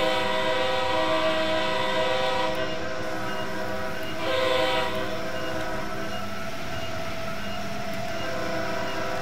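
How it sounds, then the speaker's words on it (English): A low, weird-toned horn on an Acela high-speed train in the Train Sim World 3 video game, sounding as a loud sustained blast over steady train running noise with a brief second swell, no talk. "Oh, what a weird low horn."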